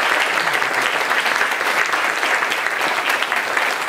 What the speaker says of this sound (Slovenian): En aplavz za 2 točki.